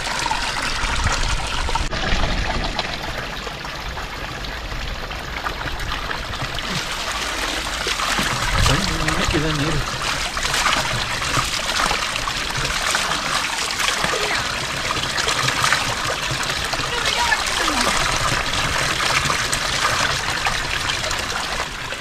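Spring water rising from the ground at Mamaleshwar temple in Kashmir, a steady close trickle and burble of flowing water with occasional splashes, running without a break.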